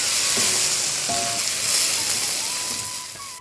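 Ridge gourd stirred with sesame powder in a hot frying pan, a close, continuous sizzle and hiss with faint scraping strokes of a spoon through the vegetables.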